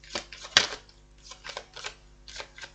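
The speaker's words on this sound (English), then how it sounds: "One more shuffle round." Tarot cards riffle and snap softly in a few quick, irregular bursts of shuffling, close by and fairly quiet.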